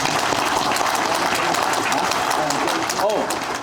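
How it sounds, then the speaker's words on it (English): A crowd at a Masonic lodge installation of officers gives a round of applause, a dense, steady clatter of clapping with voices mixed in and a brief call near the end. "Let's give them a round of applause."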